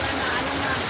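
Heavy typhoon rain from Typhoon Kristine pours steadily and loudly, a dense, continuous hiss of downpour close by with no letup.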